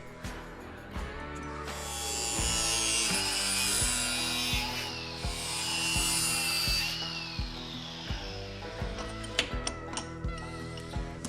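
Trimming welded tabs on a custom fuel door, a harsh metal-cutting whine rising and falling in long sustained passes with rattly vibration underneath, then sharp knocks and clatter as it stops near the end.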